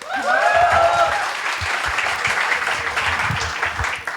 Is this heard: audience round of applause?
yes